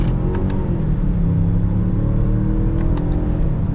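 A 2021 Mazda CX-9 Signature accelerates hard out of a corner, its engine giving a steady, close-up roar that holds for the whole stretch with no talking over it.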